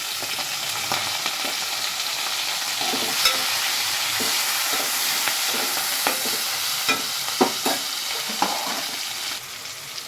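Okra and tomato fry in a pan with a steady, close sizzle, broken by irregular scraping and clinking as a utensil stirs them.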